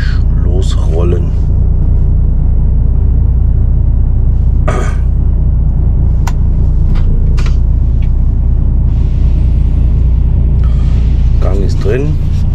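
A car engine rumbles at a low, steady idle as the vehicle begins to roll, a constant close drone with a few clicks and short bursts of someone speaking over it.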